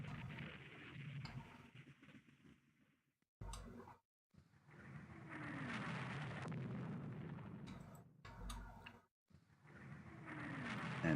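Heavy naval guns fire repeatedly in the warship combat game Rule the Waves 2, rumbling booms and sharp reports coming in clusters with brief silent gaps, fairly loud and steady throughout.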